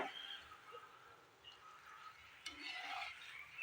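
Atta gulab jamun balls frying in oil in a kadai, a soft steady sizzle with occasional scrapes and knocks of a spoon stirring them, close and faint, no talking.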